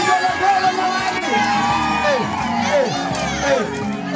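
A wedding crowd cheers outdoors on an open ground, with shrill rising and falling ululations and whoops standing out over steady crowd noise, with no distinct clapping.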